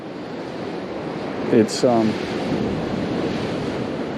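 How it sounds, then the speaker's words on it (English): Ocean surf breaks against the shore as a steady wash of broadband noise with wind buffeting the microphone, while someone speaks briefly near the middle. "I think these waves are still a little too big"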